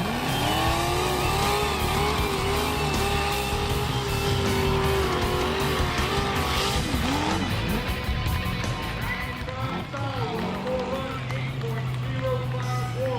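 Trucks roar through a prepared Delmarva mud bog, engines revving loudly and continuously with shifting pitch, crowd noise and an announcer's voice under the din.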